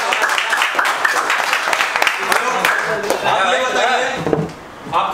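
An audience bursts into a dense round of clapping during a classroom-style lesson, loud at first and then fading as voices talk over and after it.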